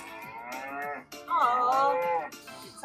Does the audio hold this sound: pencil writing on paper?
no